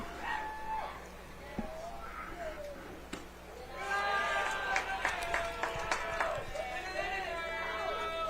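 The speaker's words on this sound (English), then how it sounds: "They're just cheering on their teammates and making a little noise." Teammates in a high school baseball dugout cheering and making noise, a cluster of shouting, whooping voices that swells and grows louder partway through over a steady outdoor background.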